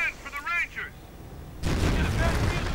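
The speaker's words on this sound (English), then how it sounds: "Panthers opening up on the riflemen" Panther tanks firing on infantry riflemen in a World War II strategy game: a loud, sustained burst of heavy gunfire and explosions kicks in partway through, after a quieter stretch of distant battle noise and faint chirping effects.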